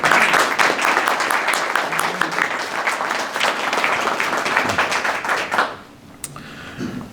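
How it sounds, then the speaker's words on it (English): An audience claps at a Southwestern College Leaders in Service Hall of Fame induction ceremony, loud and continuous for several seconds before cutting off sharply into near quiet with a stray clap. "another round of applause"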